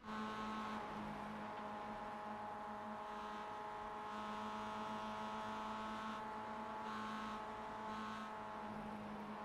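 Mazda race car engine in iRacing at Dover Motor Speedway, a steady high droning whine held at near-constant pitch from onboard, loud and continuous with no talking.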